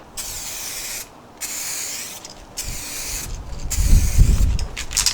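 Several hissing bursts from an aerosol can spraying a Lexus IS300 headlight outdoors on a windy day, each a second or so long with short gaps, close by, followed by low rustling handling noise.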